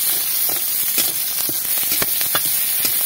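Green chillies with garlic and greens sizzle steadily in a hot pan, a close, dense frying hiss with scattered crackles and faint stirring scrapes.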